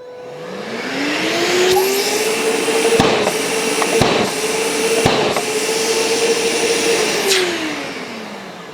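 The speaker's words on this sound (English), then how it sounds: "you put your hand over the end of the dust extractor hose and you press this lever down 3 times" A dust extractor runs with a steady whining motor hum that rises at the start and falls away at the end, broken by three sharp thumps as its filter-cleaning lever is pressed down, hose end covered.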